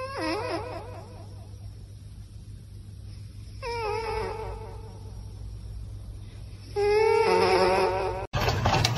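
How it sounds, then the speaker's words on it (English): A house cat meows repeatedly at a television, a few distinct close meows separated by pauses, with a sharp louder burst near the end. "Did you catch it meowing at the TV?"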